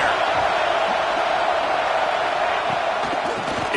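Steady, loud stadium crowd roar at a Rutgers at Ohio State college football game, a dense continuous wash of massed voices with scattered shouts, holding level throughout without a break.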